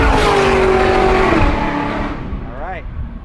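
A ZR1 production car roars loudly down a racetrack straight on a fast lap, its engine note sliding lower as it passes and fades into the distance, with voices talking over it.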